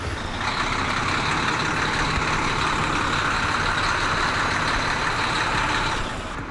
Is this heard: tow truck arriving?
yes